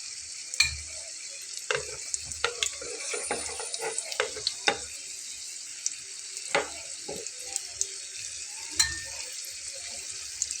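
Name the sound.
lifting fried bread potato bites out of hot oil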